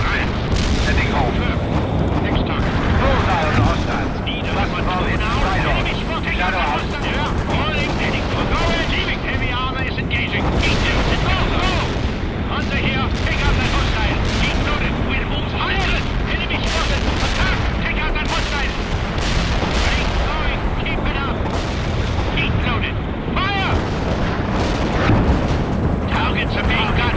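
Artillery fire and explosions in the World in Conflict video game, a dense and continuous barrage of booms and gunfire that stays loud throughout, with voices talking over the battle.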